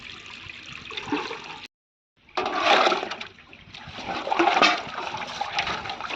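Water splashing and swirling as fish is rinsed with turmeric and rock salt, a close, continuous wash broken by a brief silent gap, then louder sloshing.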